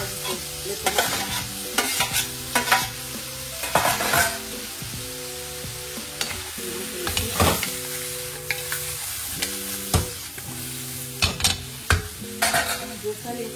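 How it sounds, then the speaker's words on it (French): Tomatoes tipped into a sizzling seafood pot with lemon juice and stirred, bringing repeated spoon scrapes and clunks against the pot in an uneven rhythm over a continuous close frying sizzle, no talking. "Là, maintenant, je vais rajouter les tomates."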